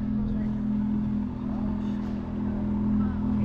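Low steady engine drone from a passing Ferrari on the road, a continuous hum with a strong tonal note, moderately loud from start to finish, with a voice speaking over it.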